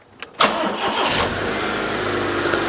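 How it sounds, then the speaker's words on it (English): A car engine with fueling issues, just treated with Kudos fuel injector cleaner, cranks briefly after a faint click, catches, and settles into a steady, close idle with no talk. "Start her up, please."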